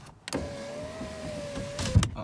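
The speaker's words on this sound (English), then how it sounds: "It's so much easier to be able to open that window just by pushing a button" An electric window motor on a VW T5 van runs for about two seconds as the glass lowers, a steady quiet whine between soft clicks at the start and a thump at the finish.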